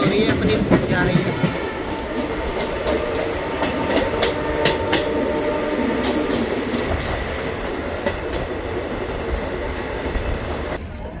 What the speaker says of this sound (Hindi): तो ये सामने से कोई ट्रेन आ रही है, पैसेंजर ट्रेन है ये।